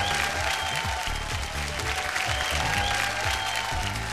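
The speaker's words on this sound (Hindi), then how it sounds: "जोरदार तालियां।" A crowd claps loudly and continuously, a dense wash of applause with music playing underneath.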